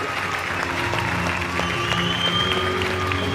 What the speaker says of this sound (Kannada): ಅಶ್ವಿನಿ ಪುನೀತ್ ರಾಜ್ಕುಮಾರ್ ಅವರಿಗೆ ಜೋರಾಗಿ ಚಪ್ಪಾಳೆ.